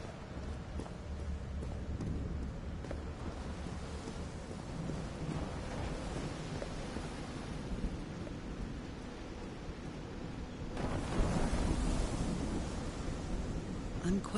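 A thunderstorm in the video game Call of the Sea, with steady heavy rain and a continuous low rumble of thunder that swells louder near the end.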